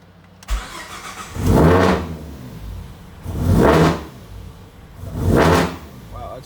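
A Ford Mustang GT500 with a 3.7 V6 engine is cranked and caught in three separate attempts, each a loud close surge of starter whir and engine roar that fades out before the next.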